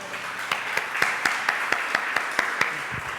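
A church congregation at an online worship celebration claps in a steady rhythm of about a dozen sharp, evenly spaced claps over a soft background hum, with no voices over it.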